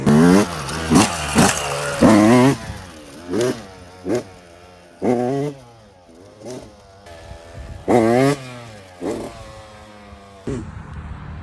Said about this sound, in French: La première fois qu'il met les gaz à la butée.